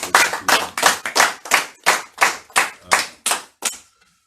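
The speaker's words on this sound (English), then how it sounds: "Give them a round of applause." Rhythmic unison clapping, about twelve loud, evenly spaced claps close by at a steady beat, ending abruptly with a brief quiet tail.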